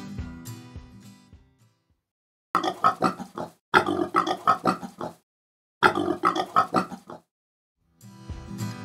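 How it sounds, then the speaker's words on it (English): A pig oinks and grunts in several short bursts of rapid snorting, loud and close, separated by brief silences. "This is a pig. Listen to its sound."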